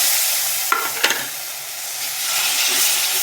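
Soybean curry with ground spice paste fries in a pan, a loud continuous sizzle and hiss with two sharp spatula scrapes early on, then the steady frying carries on alone.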